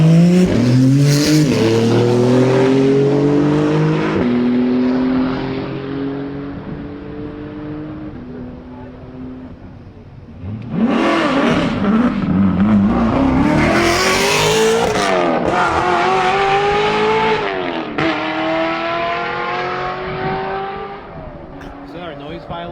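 A race car with an LS engine on the Summit Point track, passing loud and near with rising and falling engine pitch as it accelerates, fading, then roaring past again with people talking over it.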